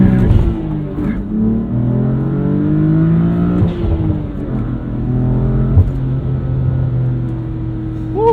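A 2016 BMW M3 sedan accelerates hard with a loud, close engine roar that climbs through the revs, drops briefly at gear changes and climbs again.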